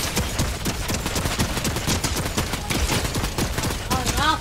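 Rapid automatic turret fire in a Fortnite match, a loud, dense burst of repeated shots in quick rhythm throughout, with a brief rising electronic tone near the end.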